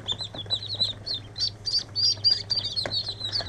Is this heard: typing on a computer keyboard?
no